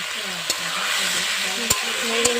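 Potatoes frying in hot oil sizzle steadily in a pan while a utensil stirs them, with a few sharp scraping knocks against the pan; faint voices murmur underneath.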